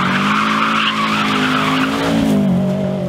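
A Veilside drift car slides with its tires skidding, a loud, sustained squeal over the engine's droning note that wavers and shifts pitch as the slide goes on.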